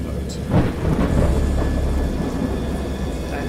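Deep rolling thunder rumbles through steady rain in the horror video game Dagon, a close and continuous roar with a few louder swells.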